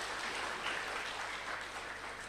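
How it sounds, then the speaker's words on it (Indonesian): Audience applause at a lecture-style talk, a soft, even patter of clapping heard from a distance, continuous and fairly faint. "Tepuk tangan dong."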